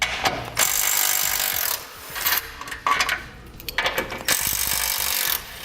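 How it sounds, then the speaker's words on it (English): A 15mm socket ratchet loosens bumper support bolts on a 2019 Jeep Cherokee, with several bursts of rapid, scratchy ratcheting separated by short pauses, close and fairly loud, and no speech. "Next we're going to take a 15mm socket. We're going to have 3 bolts holding on our bumper support."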